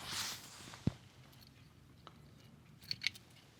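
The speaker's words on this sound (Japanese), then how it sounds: "これ根元から切っちゃう" Pruning shears snip dead, dried branches of a Shine Muscat grapevine grown on short-cane training: one sharp close cut near the start, then a couple of lighter clicks near the end over a quiet background.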